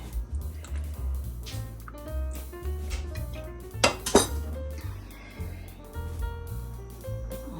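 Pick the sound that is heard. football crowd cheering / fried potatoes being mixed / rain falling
fried potatoes being mixed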